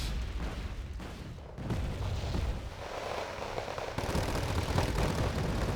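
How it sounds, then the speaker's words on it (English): Artillery barrage in the video game Wargame Red Dragon, a continuous rumble of distant booms and blasts that swells in several surges, heavy and rolling, with no clear voices over it. "And there we go, second barrage."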